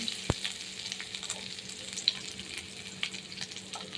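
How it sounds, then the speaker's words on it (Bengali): Mushrooms and potatoes fry and are stirred in a pan, a soft continuous sizzle with scattered spatula knocks and clicks, one sharper tap near the start, heard close but fairly quiet and without talking. "এবার আমি এই যে মাশরুমটার আলুটাকে দিয়ে দিচ্ছি এবার নেড়েতে"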